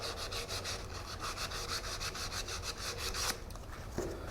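Steady, rhythmic back-and-forth sanding of a wooden goblet with fine grit, close and continuous, stopping near the end with a small knock.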